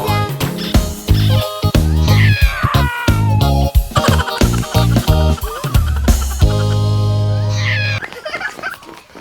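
Loud cartoon cat meows sound repeatedly over a bouncy music backing in a Hindi children's nursery rhyme. The meows are close and drawn out, with squeaky effects between them.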